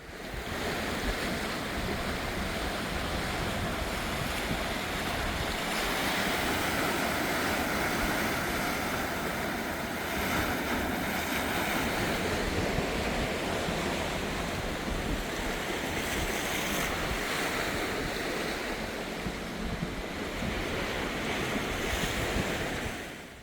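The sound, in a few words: ocean waves on the shore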